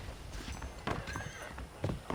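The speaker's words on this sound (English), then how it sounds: "The horses are saddled up over here." Saddled horses in the Red Dead Redemption video game clip-clop in an uneven rhythm of hoof strikes, with a horse neighing and whinnying nearby.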